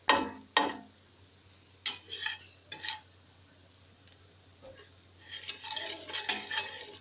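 Garlic and black pepper sauté in a pot with chicken stock, a soft sizzle broken by several sharp clinks and stirring scrapes of a utensil against the pot, with louder bursts of frying toward the end.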